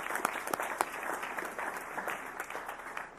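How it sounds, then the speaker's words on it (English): An audience at a school district board meeting applauds steadily, a dense, even patter of many hands clapping at moderate volume throughout. "Let's give a round of applause for that, please."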